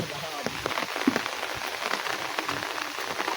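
Rain falls in a village, close drops pattering and tapping steadily on surfaces for a few seconds with no speech.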